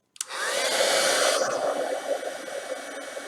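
Heat embossing tool blowing hot air over embossing powder, a steady close whooshing hiss that starts abruptly and runs continuously at high volume throughout, with no talk.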